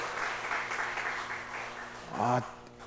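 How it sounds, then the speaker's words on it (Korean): A church congregation at a revival meeting at Incheon Sunghwa Church claps together in a steady, fairly loud burst of applause, with voices mixed in and a brief louder shout near the end. "영광의 박수 하나님께."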